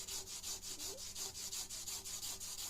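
Gentle rubbing of surface rust off steel rifle barrel metal, about fifteen even back-and-forth strokes in a steady rhythm, close and quiet, with no talking.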